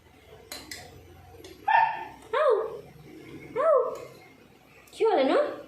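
A pet dog barks excitedly for thick yogurt, letting out four loud, yelping barks spaced about a second apart over a quiet room.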